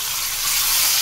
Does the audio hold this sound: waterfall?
no